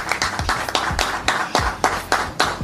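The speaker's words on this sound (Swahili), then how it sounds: "naomba tupige makofi wote kwanza tulokuwa ndani" Rhythmic group clapping at a Simba club website launch, strong unison claps landing about every quarter second, loud and near, with no talking over it.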